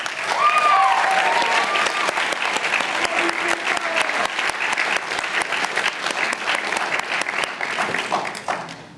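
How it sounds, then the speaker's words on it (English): Audience applause at a school speech night for everyone who spoke, a loud, dense, sustained wash of clapping from a large crowd that tapers off at the end. "if we can get one final round of applause for everyone who spoke tonight"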